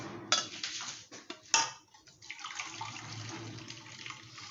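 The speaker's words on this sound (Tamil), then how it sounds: "இப்போ தண்ணி கொஞ்சம் எடுத்து வடிகட்டிடுவோம்" Water splashes and pours from a pot of cooked tomatoes into a sink, with a couple of sharp metallic clanks of cookware near the start, then a steady trickle.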